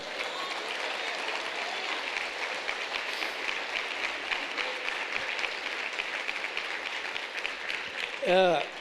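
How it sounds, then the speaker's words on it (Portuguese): A church congregation claps in a steady, dense wash of applause that fills the room for several seconds, with a short voice breaking in near the end. "Ele merece uma salva de palmas?"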